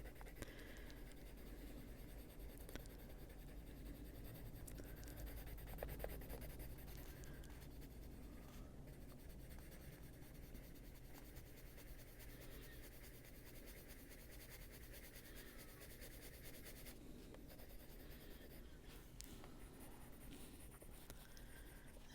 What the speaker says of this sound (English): It's a quiet little pencil.